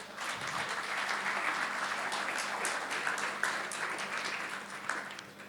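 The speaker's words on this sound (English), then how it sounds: "give a big clap to all my panelists" Applause for the panelists at a construction law conference panel discussion in Mumbai, a sustained, moderately loud crowd clapping that continues evenly throughout.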